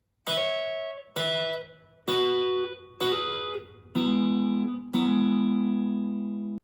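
Six sustained guitar chords strummed one after another, each ringing out cleanly before the next, the last ones lower and fuller.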